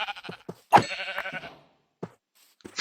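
Sheep in the video game Minecraft give several short bleats, one loud drawn-out cry followed by a few quieter, clipped calls with pauses between them.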